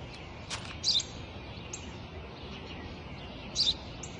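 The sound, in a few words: sparrow chirping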